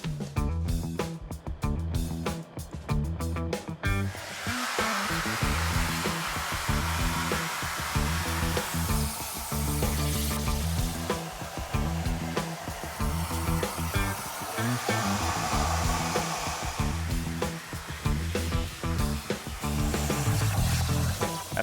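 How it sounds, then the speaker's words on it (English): A plasma table cuts steel templates with a continuous loud hissing, roaring rush that swells and shifts over a steady low hum, close and sustained, with no talking. "After cutting out pieces on the plasma table"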